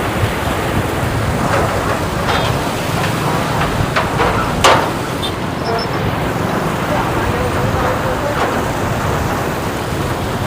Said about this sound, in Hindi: नीचे पूरा पानी जा रहा है, देखिए